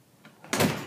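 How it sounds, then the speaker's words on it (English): A badly adjusted automatic door closer pulls a door shut hard. A soft rustle and a faint shift come first, then one loud slam rings on near the microphone. "It just slams the door, so I have to adjust mine."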